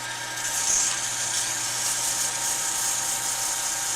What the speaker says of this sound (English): we have to do some aggressive sanding on this one